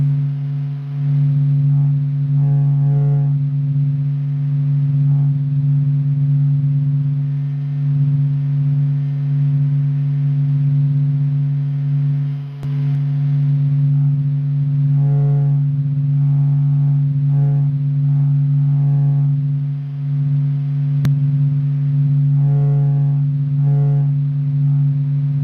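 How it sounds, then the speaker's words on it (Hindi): NASA recording of sound from the sun, a loud continuous low droning hum with steady tones and faint fluttering overtones, unbroken for about twenty-five seconds with no voices. "नासा द्वारा रिकॉर्ड की गई सूरज से निकलने वाली साउंड है"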